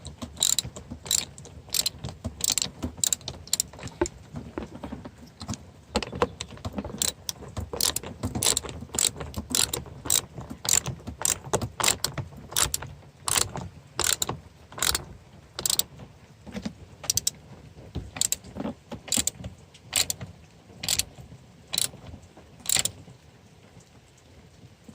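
A ratchet wrench clicks rapidly in repeated bursts while tightening the nut on a Toyota battery terminal, the sharp ratcheting close and steady with short pauses between strokes and no talking.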